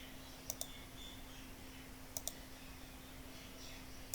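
A few faint, sharp computer keyboard clicks, in two quick pairs and a single tap, over a quiet hum.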